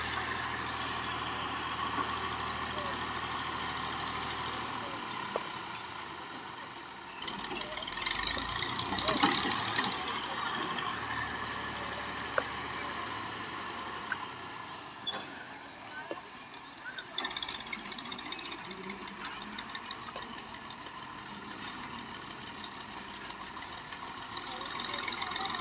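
A tractor backs a trolley into a narrow lane, its engine rumbling steadily under nearby voices, with a brief rise in revs partway through.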